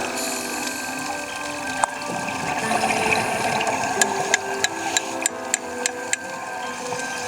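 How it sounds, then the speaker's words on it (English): Sharp metallic taps ring out one after another in a slow, even series over a constant underwater hiss and hum, a hammer driving a nail into rock underwater. "Hammer a nail into the rock."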